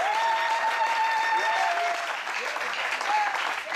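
A church congregation applauding during a New Year service in Libreville, Gabon, a steady dense clapping that lasts throughout, with a voice sounding briefly over it.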